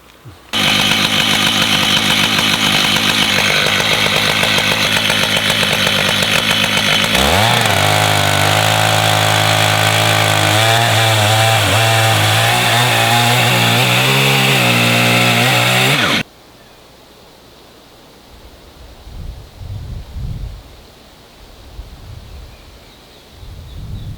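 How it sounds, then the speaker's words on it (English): A powered saw cuts a log into bevel boards, a loud, close, continuous engine-driven whine that deepens in pitch midway as the blade bites into the wood, then cuts off abruptly, leaving quiet rustling and faint thumps. "I'll cut from this side so that I'm coming down evenly on the log"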